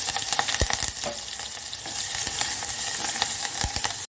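Chilli pieces crackle in hot oil with cumin, asafoetida and curry leaves, a loud continuous sizzle up close with a few sharp pops and spatters, cutting off abruptly at the end; no one speaks.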